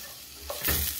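Garlic and onion hit a hot pan, a quiet hiss that swells into a louder sizzle in the last half second.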